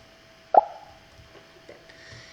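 Scratch game pop sound effect, a single short soft pop near the start followed by faint background noise, no talking.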